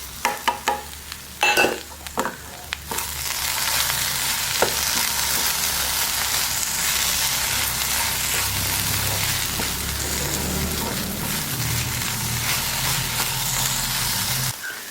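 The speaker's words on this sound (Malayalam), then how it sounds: "നമുക്കിങ്ങനെ തുറന്നു വെച്ചിട്ട് തന്നെയാണ് വഴറ്റിയെടുക്കേണ്ടത്." Chopped green chillies sauté in an open pan with a continuous loud sizzle and hiss, broken early by a few sharp clinks and scrapes of stirring, then steady frying alone.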